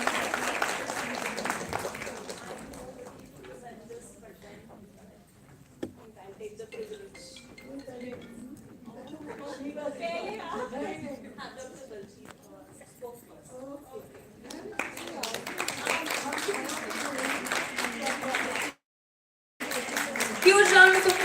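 Audience at a health conclave in Chandigarh bursts into applause, dense clapping at the start and again near the end, with a spell of quieter chatter and clinking between, and a speaker talking.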